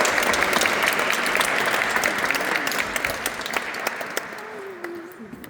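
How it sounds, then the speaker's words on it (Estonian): Audience applauding together at a gathering praising God, a dense steady clapping that stays loud throughout and thins slightly toward the end, with a brief voice murmur near the close. "Anname talle aplausi"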